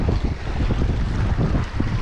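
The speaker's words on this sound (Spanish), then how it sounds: "El aire está muy fuerte y está frío." Strong cold wind roars steadily across a lakeshore at a reservoir, buffeting the microphone with continuous loud low rumbling gusts and no voices.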